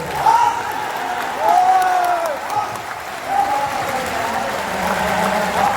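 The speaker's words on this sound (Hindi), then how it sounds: "ताली की आवाज आती है" Steady crowd clapping fills a Hindi poetry gathering (kavi sammelan) at Bageshwar Dham, continuous and moderately loud, with chanting voices rising above it at intervals.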